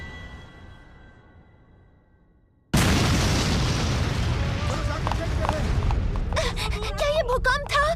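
An earthquake-like boom in an animated show crashes in suddenly after a quiet stretch and lingers as a loud, sustained rumble, with startled gasping voices near the end.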